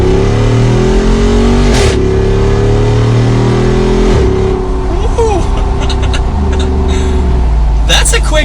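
A Jeep Wrangler 392 V8 accelerates hard close by, with loud, deep rising revs and several gear shifts. Talk breaks in at points.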